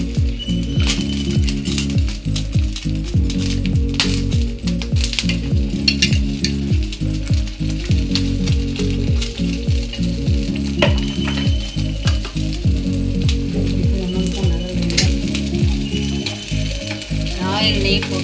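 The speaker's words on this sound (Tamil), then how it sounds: "ஆயில், நெய் போட்டு இந்த மசாலா சேர்த்து நல்லா எண்ணெய் பிரிஞ்சு வர்ற அளவுக்கு வதக்கிடணும்." Masala sizzles loudly in oil and ghee for mushroom biryani, a constant frying hiss with rapid, rhythmic scraping and stirring strokes of a spoon against the pan, close and continuous throughout, over low background music.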